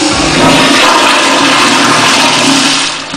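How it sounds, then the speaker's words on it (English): A toilet in a clean Las Vegas restroom flushes loudly and close by, a steady rushing roar of water lasting about three seconds before it starts to fade, with no talk over it. "Oh yes, this is a good flush."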